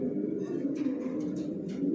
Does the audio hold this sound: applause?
no